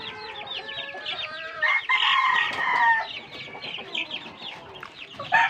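Backyard chickens in Pampanga, a brood hen among her many chicks, cluck steadily close by while a rooster crows and other fowl call throughout, with a louder burst of clucking midway.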